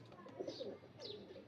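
Soft, low cooing of pigeons at a pigeon show, a couple of throaty calls close by, over a quiet background.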